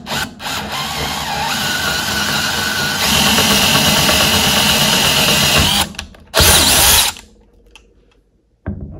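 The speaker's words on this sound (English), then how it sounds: "And now drill these 3 points with the 5/16 bit" Power drill bores pilot holes into wood with a 5/16 bit for mounting a swivel bench vise, a loud sustained whine in a long run, then a short burst after a pause.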